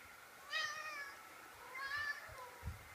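Two faint high-pitched cat meows come from a cat playing a cat-and-mouse game indoors, each call short and wavering, spaced about a second apart over a low background hum with a soft thump at the end.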